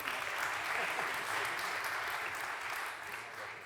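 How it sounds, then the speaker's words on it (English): Audience applause at an afternoon plenary session welcoming a medical doctor to the stage, a dense, steady clatter of many hands that holds strong throughout and fades slightly toward the end, with faint voices mixed in. "Give her an applause."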